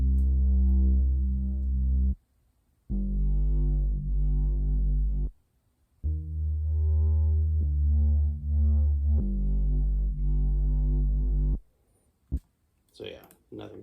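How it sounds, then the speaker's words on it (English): A mono synth bass from the Wizardry preset, dry with no effects, plays a trapsoul-style bass line following the chords: loud, deep sustained notes in phrases broken by short gaps, ending with a few brief clicks. "Wizardry bass preset."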